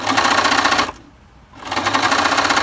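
Sewing machine running steadily as it stitches elastic onto a fabric face mask, a fast continuous whir that pauses briefly mid-way before resuming at the same pace, close and alone with no talk.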